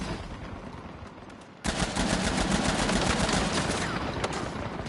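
Gunfire in the video game Uncharted: quiet rustling gives way to a sudden burst of rapid, sustained shooting that stays loud and dense to the end, with no voices.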